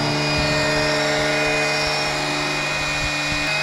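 A small oil suction pump draws used engine oil out of a Briggs & Stratton Quattro lawnmower engine, giving a steady close motor whine with constant tonal hum and faint gurgling, running alone without talk.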